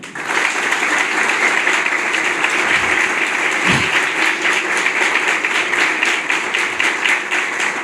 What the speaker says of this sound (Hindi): आप सब लोग एक बार ताली बजाएं।